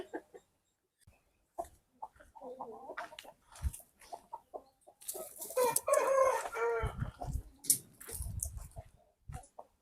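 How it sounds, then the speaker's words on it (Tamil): A very large hen clucks and calls in scattered bursts close by, with louder squawking runs in the middle of the stretch and brief rooster-like cries among the farmyard sounds. "இது நல்ல மெகா சைஸுங்க கோழி."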